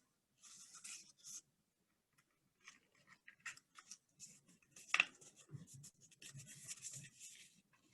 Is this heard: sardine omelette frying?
no